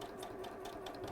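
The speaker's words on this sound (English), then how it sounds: "So I'm going to sew around" A sewing machine runs steadily while stitching around four sides of stretchy fabric placed right sides together, giving a continuous, even mechanical hum at low level with no talking.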